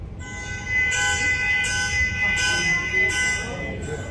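A recorded car alarm sounds loudly and continuously, a steady electronic tone that pulses in repeated bursts, with a faint voice underneath.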